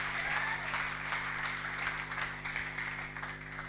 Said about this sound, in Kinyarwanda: Wakomeye Yesu amashyi.